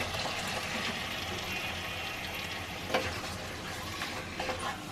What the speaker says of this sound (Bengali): এখন এর মধ্যে আমি কেটে ধুয়ে ঝরিয়ে রাখা চিকেনটা দিয়ে দিচ্ছি।